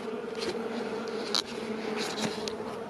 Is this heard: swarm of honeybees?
yes